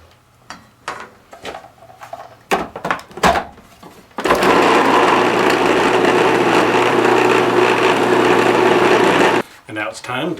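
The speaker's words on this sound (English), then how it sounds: "And now we're going to blend until smooth." Blender whirring bean dip until smooth, a loud sustained motor roar lasting about five seconds, preceded by clattering knocks and thumps of scraping and handling, with another short burst at the end.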